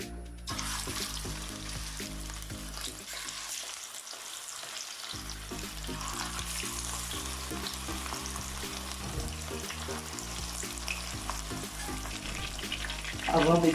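Beef chapli kababs frying in hot oil, a continuous close sizzle and crackle that holds steady throughout with a brief quieter gap early on, with no talking.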